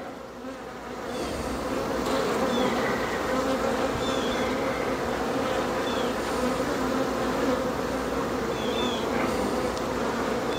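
Honey bees buzz loudly and continuously around an open horizontal hive during an inspection and mite check, a dense close swarm drone with occasional louder passes of individual bees, no speech.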